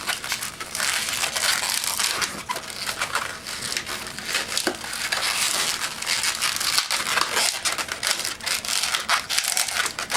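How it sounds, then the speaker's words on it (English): A latex twisting balloon being twisted into the barrel of a balloon-animal rifle, continuous loud squeaky rubbing and crinkling close up, steady throughout with no talking. "we're going to start by making our tulip twist on the end, followed by our 2 pinch twists"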